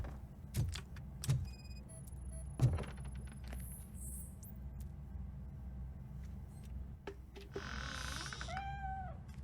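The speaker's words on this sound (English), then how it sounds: "Наверное, кошак где-то в коробке." Cat meowing in the Robocop Rogue City video game, a few soft mews over a low ambient hum with clicks and thumps, ending in a drawn-out rising meow near the close.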